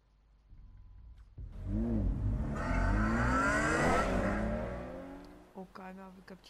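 A Ferrari engine in a video game revs up hard and roars for a few seconds with a rising, sweeping tone, then fades out as brief talk follows.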